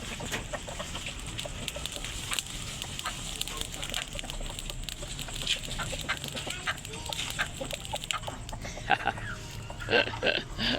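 Chickens cluck and squawk in a noisy farmyard, with sharper, louder calls bunching up near the end.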